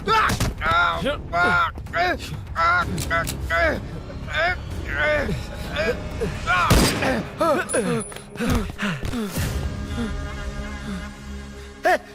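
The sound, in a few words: gunshots in a film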